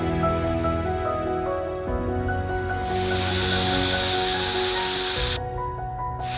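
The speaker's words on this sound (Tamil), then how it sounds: "நான் வந்து ஆயில் ஸ்ப்ரே யூஸ் பண்ணிக்கிறேன்." Oil spray hisses over chicken kebab pieces in a series of sharp, airy bursts, one long spray in the middle standing out loudly, over a steady sizzling, humming background.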